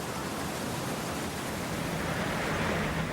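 Water rushing into a London canal lock through gate paddles cranked open with a windlass, a steady, loud broadband roar and churn that holds constant throughout.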